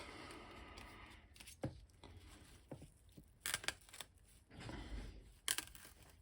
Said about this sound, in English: Let's cut a piece from this wrap.